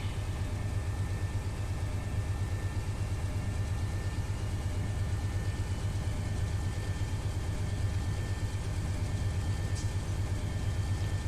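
A diesel locomotive in notch 5 in the Run 8 train simulator holds a steady, deep engine drone with a rhythmic low throb, continuous and even, with no talking.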